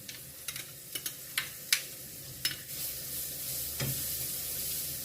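Soft sizzling of cabbage roll filling frying in a pan, with several sharp clicks and scrapes of a spoon stirring, no voices.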